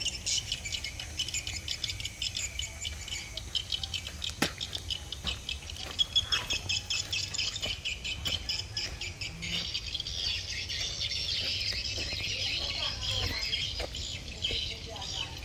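Swiftlets inside a multi-storey swiftlet nesting house, a dense chorus of rapid high chirps and clicking twitters, close and continuous, with occasional sharper calls and faint background noise.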